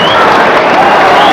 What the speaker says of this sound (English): his fans here on their feet applauding the effort